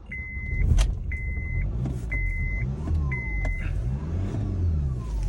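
A used Honda car engine turning over and settling into a steady idle, heard from close by with a low rumble throughout, plus repeated electric whirring bursts and a few sharp clicks over about five seconds.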